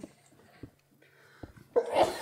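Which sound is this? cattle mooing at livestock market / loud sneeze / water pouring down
loud sneeze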